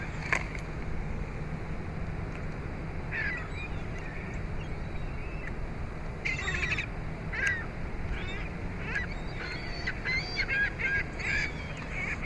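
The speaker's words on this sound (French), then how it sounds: "Sauf que ces moineaux-là sont pas mal fatigants, c'est des mouettes." Gulls call in scattered squawks and honks during a feeding with apples, the sharp cries arriving in short clusters over a steady outdoor background hum, with no one talking.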